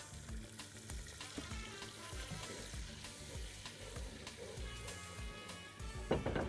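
Onions browned hard in a pan sizzle and fry after tomato paste and a splash of water go in, a steady crackling hiss with scraping stirs, continuous and close.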